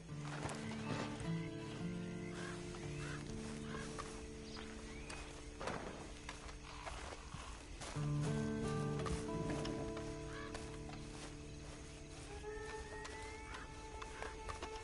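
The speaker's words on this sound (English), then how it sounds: "Then you better get on this horse." Neighs and whinnies from a horse mix with clip-clopping hooves in a console video game, all against a busy game soundscape with music-like tones.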